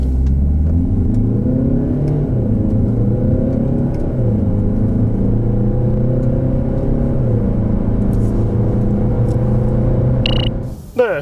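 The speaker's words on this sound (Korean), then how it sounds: "자, 그럼 DS3 크로스백의 가속 성능에 대해서 알아볼까요?" A 2019 DS3 Crossback accelerates hard from inside the cabin. The engine drones steadily and rises in pitch, dropping back at each gear change, then ends with a short clatter.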